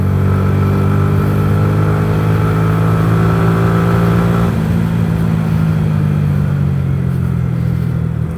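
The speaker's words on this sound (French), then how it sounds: "elle fait quand même un petit boucan hein, pour une 125. Hein. On entend le mono" A Yamaha YZF R125 single-cylinder 125cc sport motorcycle engine runs loud and close, holding a steady buzzing note, then its pitch drops partway through as the revs fall. No voices are heard.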